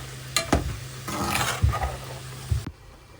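Sugar syrup for gaja is stirred in a pan with brief sizzles, over a steady low hum, with a few sharp scraping clatters before it ends abruptly.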